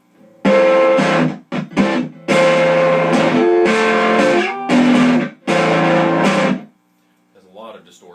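A Fender Champion 600 tube amp, modified with R7 removed and R19 toggled, turned up loud and pushed into heavy distortion. Gritty chords ring in several sustained bursts with brief gaps, then stop, followed by a faint trailing voice.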